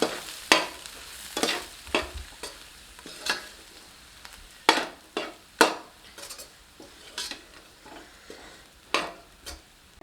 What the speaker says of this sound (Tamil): மீடியம் ஃப்ளேம் வச்சுக்கணும் நல்லா ஒன்று சேர கலந்து விட்டுட்டே இருக்கணும்